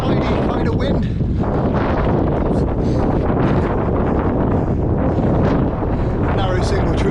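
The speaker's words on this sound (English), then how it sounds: "I've got a bit of a taily, sidey kind of wind." Strong wind buffets the microphone during a coastal off-road ride past Salter Lighthouse, producing a constant loud, rough roar that fills the whole stretch.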